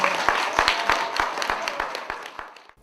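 A seated audience at a local event in Vélizy claps in a steady, rhythmic beat, each sharp clap cutting through a wash of general applause that fades out at the end.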